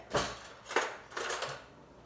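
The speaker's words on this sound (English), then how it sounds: "I'm just going to get a fork here" A fork is picked up from the cutlery while a soy glaze with brown sugar is prepared, giving three quick, faint metallic clinks and rattles spaced about half a second apart.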